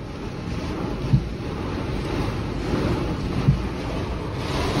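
Strong storm wind gusts roar steadily outdoors as a broad, rushing buffeting noise with microphone wind rumble and two brief thumps, with no talking.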